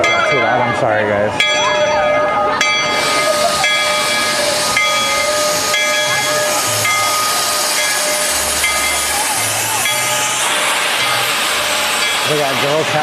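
At Knott's Berry Farm, a steam train sounds its whistle, a sustained bright tone over loud steady steam hiss, with crowd chatter and voices underneath throughout.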